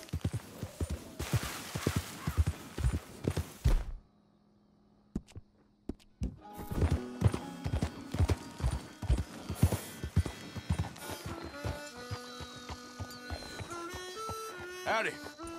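Horse hooves clip-clop at a steady walking rhythm in Red Dead Redemption 2, with a short pause midway before the footfalls resume, layered over game sounds.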